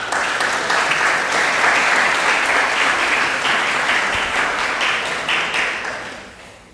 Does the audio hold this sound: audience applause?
yes